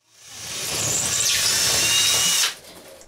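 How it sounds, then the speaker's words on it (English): A power drill bores anchor holes into a bathroom wall for hanging a cabinet, its whine rising for about two and a half seconds in one steady, close, loud burst before cutting off abruptly. "I used a 9/64 bit on the left side and a 1/4 inch bit on the right side for my"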